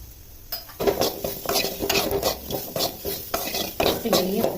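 Spices, turmeric among them, stirred and sautéed in a pan for a home lunch dish, with a spoon repeatedly scraping and clinking against the metal under a soft sizzle, close and steady with no talking.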